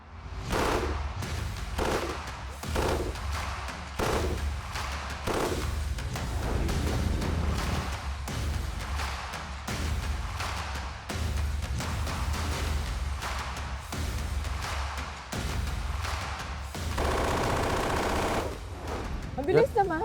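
Gunfire crackles in rapid bursts, with dense repeated reports like an automatic weapon running almost continuously, while voices talk faintly in the background.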